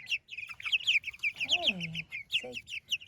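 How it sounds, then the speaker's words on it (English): Young Cornish cross chickens outdoors give a busy run of high chirps and peeps, with a lower clucking call rising in the middle and a short burst of clucks near the end. "These are our Cornish cross hens."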